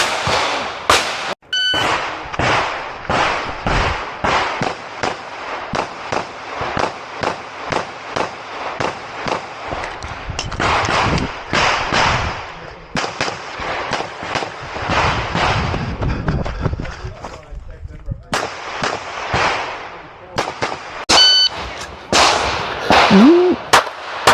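Repeated sharp gunshots from an S&W Bodyguard 2.0 .380 pistol on a shooting range, fired in rapid strings of loud close cracks with short pauses between volleys, plus a brief electronic beep near the start.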